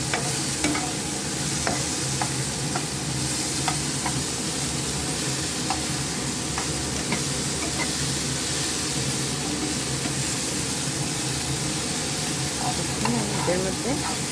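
Spices fry in a pan for katla fish curry, a constant close sizzle with intermittent scraping and clicking from stirring throughout.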